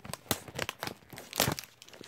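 Packaging on a music merchandise unboxing is cut open, a run of crinkling and tearing rustles with sharper snips and a louder rip near the end, close up and without talk.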